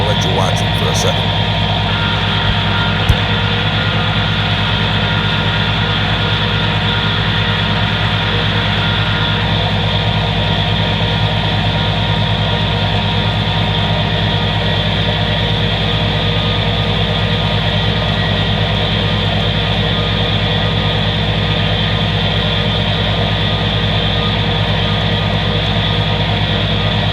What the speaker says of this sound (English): I'm in here raking on the case tractor right now, and Junior's of course on his.